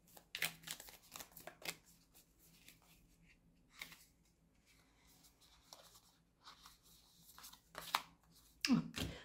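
Oracle cards are shuffled and handled in quiet, soft papery riffles and taps, with scattered brief flutters and a sharper flick near the end, close and faint.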